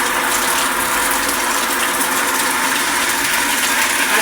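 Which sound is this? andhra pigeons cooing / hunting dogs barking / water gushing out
water gushing out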